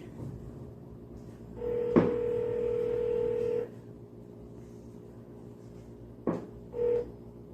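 A DNAKE video intercom placing a call: a short key beep, then a long steady electronic calling tone, followed later by another beep and a brief second tone, all faint and clean against a quiet room.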